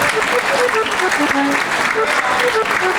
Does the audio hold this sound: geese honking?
no